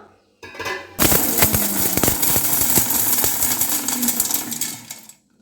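A mixer grinder pulses dried red chillies, fennel and pepper, giving a loud, close burst of whirring and rattling clatter of several seconds. The burst starts abruptly and stops suddenly, with no talk.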